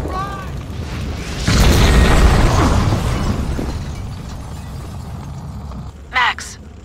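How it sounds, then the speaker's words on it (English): A building blowing up in the video game Max Payne 2: a sudden loud explosive roar with debris rumbling away, then a short sharp burst near the end, with game dialogue heard around it. "The building's blowing up."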